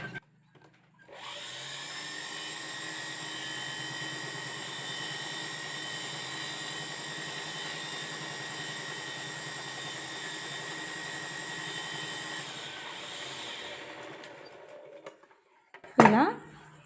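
A sewing machine stitching fabric for thread piping, its motor starting up into a steady, even whine that holds for about fourteen seconds before winding down, followed by a sharp click.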